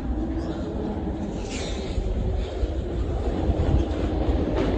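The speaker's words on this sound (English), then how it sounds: "Trains are coming." A train rumbles and clatters into Holloway Road station in London, wheels rolling with faint squeals and a constant low roar, heard up close and continuous.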